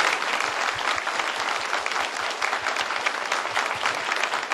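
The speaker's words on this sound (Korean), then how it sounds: "우리 모든 직원들에게 감사와 격려의 박수" Congregation at a special dawn prayer service applauds the staff of a Christian broadcaster, dense and steady clapping that fills the whole stretch without talk.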